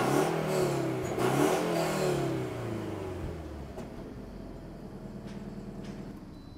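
A 2012 Toyota GT86 engine, heard from inside the car, fires up with a loud rev that swells for a couple of seconds, then drops back to a steady, quieter idle hum.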